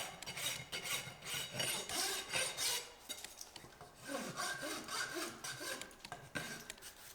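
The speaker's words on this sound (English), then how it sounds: "Two points of contact with your rasp, so that way you don't roll your heels off." A farrier's rasp files a horse's hoof wall in repeated rough scraping strokes, close and steady, with brief pauses between passes.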